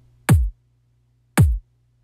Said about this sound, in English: I just wanted a nice punchy kick